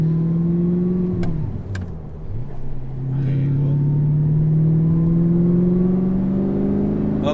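An Audi R8's engine drones steadily inside the cabin, dipping briefly after a gear change and then climbing smoothly in pitch as the car accelerates, with voices at times.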